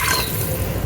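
Water is poured into a pot of fried potatoes over an open fire in a village kitchen, a steady close splashing rush of liquid that runs without a break.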